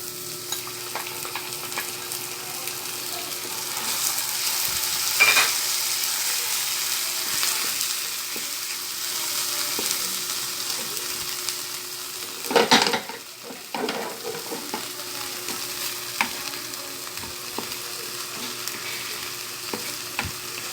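Bagoong shrimp paste sautéing in a pan for creamed mongo beans with banana: a steady sizzle and frying hiss throughout, with occasional stirring scrapes and a louder clatter of utensil against the pan near the middle.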